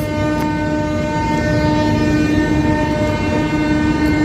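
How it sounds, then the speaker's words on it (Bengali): The 13005 Howrah–Amritsar Mail passenger train pulling into Bardhaman Junction, a loud, continuous rolling rumble with the sustained tone of a horn and faint clicks of wheels over rails, with no talk. "বর্ধমান ঢুকলো ট্রেন আমাদের প্রথম স্টপেজ"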